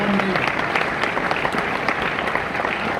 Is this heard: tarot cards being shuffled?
no